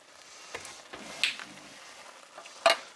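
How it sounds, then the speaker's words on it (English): A spoon gives spaghetti sauce a quick stir in a pan, a few soft scraping and clattering strokes over a faint low sizzle, fairly quiet and close with no talking. "Give it a quick stir."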